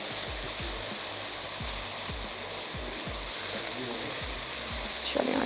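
Browned onion fries in a chicken qeema curry in a pan, a steady soft sizzle with a run of regular low thumps from stirring, and a brief clatter near the end.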